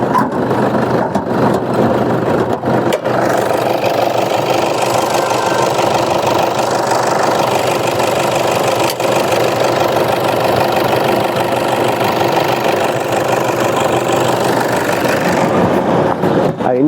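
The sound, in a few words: vehicle engine started and idling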